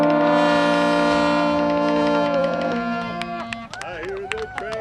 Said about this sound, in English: I hear the train come.